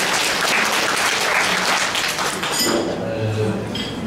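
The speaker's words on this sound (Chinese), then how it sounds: "掌声有请。" Banquet guests at a farewell dinner held by a Fujian chamber of commerce at a hotel in Chile break into loud, dense applause, which fades after a few seconds into quieter clapping and room noise.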